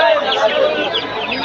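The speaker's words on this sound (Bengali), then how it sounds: "এই পাশে মুরগি আছে, মুরগির বাচ্চা আছে।" Chickens and chicks at a busy poultry market, their clucking and peeping mixed into a dense crowd din with people talking throughout.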